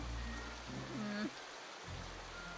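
Steady cartoon rain pours as a dense, even hiss throughout, with a short tonal sound rising above it near the middle.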